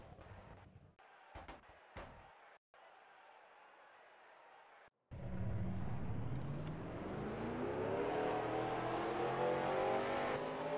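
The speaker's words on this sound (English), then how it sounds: "Drivers, start your engines." Race car engines at Daytona start up and build into a loud, sustained roar after a few seconds of quieter background, with several engines droning and revving together close by.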